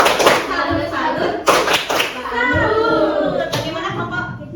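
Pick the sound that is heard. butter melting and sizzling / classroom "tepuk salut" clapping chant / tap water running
classroom "tepuk salut" clapping chant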